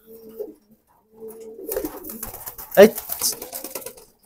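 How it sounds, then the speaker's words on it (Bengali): Pankhi pigeons coo in short, soft, throaty phrases close by, mixed with wing or body rustling, while people talk over and between the calls. "এটা একটা মাদি কবুতর"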